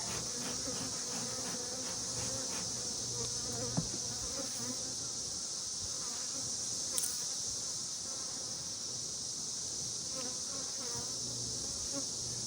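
Queenless honeybees in an opened hive give off a dense, steady, agitated buzz that carries on unbroken, close and even in loudness, with no voices.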